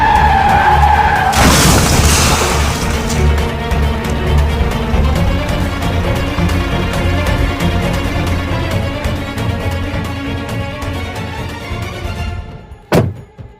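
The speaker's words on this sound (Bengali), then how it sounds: "গাড়ির চাকায় গুলিটি লাগতেই গাড়ির একটা ধানের গোলায় গিয়ে ধাক্কা মারে" A car skids and slams into a rice stack after its tire is shot, a loud screech and impact burst early, followed by a long, dense roar of noise that fades before a final sharp thud.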